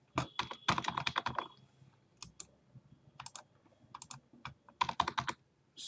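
Computer keyboard keys pressed for a copy shortcut during video editing in Adobe Premiere Pro, crisp close clicks in quick bursts and scattered single taps with short pauses between.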